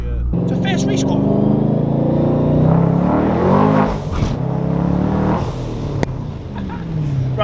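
A twin-turbo Ford Mustang engine revs loudly and spins up close, rising and falling in pitch through several sweeps, with people talking and exclaiming over it.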